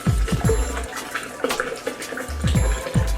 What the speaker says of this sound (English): Put a liter of water.